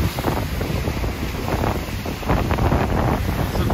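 Ocean waves crash into rocks along a rugged shoreline, a steady, loud roar of surf and churning water mixed with heavy wind buffeting the microphone throughout.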